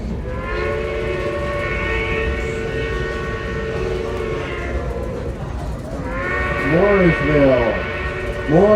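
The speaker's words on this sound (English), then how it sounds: "Now please enjoy this freight train rolling by us on the side." A Reading and Northern freight train rolls past beside the listener. A steady rumble runs underneath, long harmonic horn-like tones sound, and shifting squealing tones rise toward the end.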